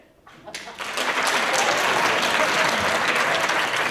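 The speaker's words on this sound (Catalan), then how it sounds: "el aplaudiment no està mal" Applause from the audience at the 2017 Valencian actors' awards gala breaks out after a brief quiet start, swelling quickly into a full, steady round of clapping.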